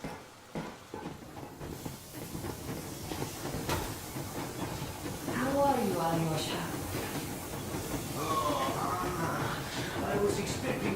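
The Yermak steam train moving in the Metro Exodus video game, a continuous rumble with hissing steam and rail clatter, under people talking.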